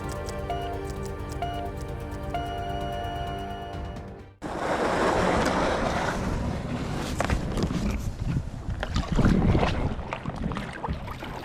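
A kayak out on the water during a winter camping trip near Elkin, North Carolina: after a stretch of music, close-up splashes, drips and paddle swishes come loud and steady, with no talking.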